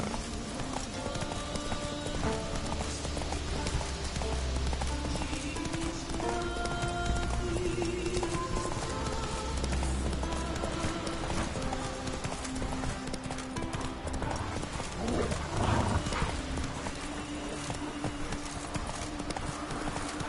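Roach, a horse in The Witcher 3 video game, gallops with steady rhythmic hoofbeats through the whole stretch, close and fairly loud over a layered game soundscape.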